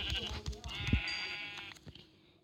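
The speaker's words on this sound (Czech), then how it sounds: "Zabiju tu ovci" A sheep in the Minecraft PE video game bleats with a short quavering cry, moderately loud over a busy game soundscape of clicks and thumps, then the sound fades out.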